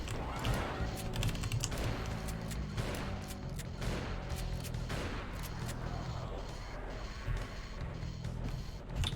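Shotgun blasts in the video game Doom, Plutonia map set, fire repeatedly in a continuous noisy stream of booming shots and crashes, loud throughout.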